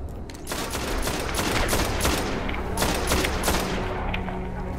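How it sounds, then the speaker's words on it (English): Auto rifle fire in the video game Destiny, played on PS4 in a skirmish match, rattling in dense sustained bursts for several seconds, loud and near, with scattered impacts mixed in and no voices over it. "Let me get my auto rifle out."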